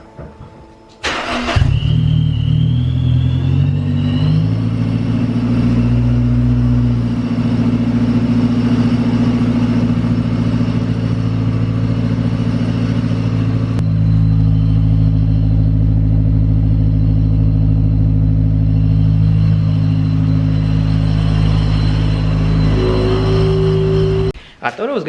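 A turbocharged Honda S2000 fitted with a J's Racing exhaust starts with a sharp burst, then holds a loud, close idle with rising revs. The engine stays steady for about twenty seconds before cutting off abruptly.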